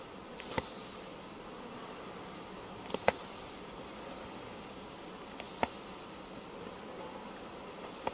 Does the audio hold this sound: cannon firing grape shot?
no